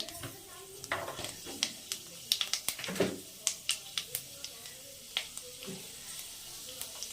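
Panch phoron spices crackling in hot oil in a wok, a quick scatter of small pops and spits over a soft sizzle, close and fairly quiet.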